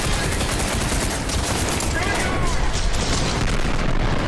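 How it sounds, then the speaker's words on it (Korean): Loud, dense roar of battle in a first-person shooter game, with a grenade blast lost in a continuous wash of booming and rapid gunfire that holds at the same level throughout. "와 야 수류탄 진짜 개 미쳤어"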